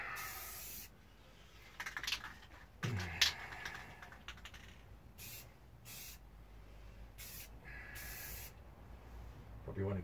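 Finish sprayed in light coats onto a Stratocaster guitar body, heard as several separate hissing bursts of a few seconds each, moderately loud with quieter gaps between them.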